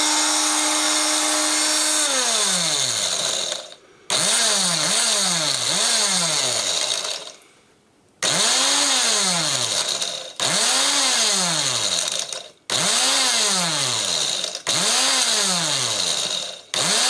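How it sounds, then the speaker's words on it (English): An electric grinder whirs loudly as it grinds dried chilies into chili powder, starting with a steady high whine and then cycling through repeated pulses that rise, dip and cut off, with brief pauses between. "And we'll grind this some more, shall we?"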